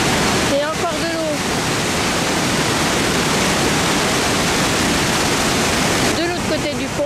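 Rushing water at Skocjan park in Slovenia, a loud steady roar like a waterfall or torrent filling the whole clip, with faint voices briefly audible near the start and end.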